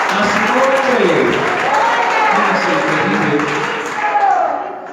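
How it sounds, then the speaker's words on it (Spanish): Church congregation applauding loudly and steadily throughout, a dense wash of clapping with raised voices and cheering mixed in. "que se oiga fuerte, fuerte, fuerte, fuerte este aplauso"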